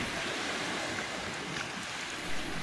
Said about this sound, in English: By this time the waves were very rough and choppy.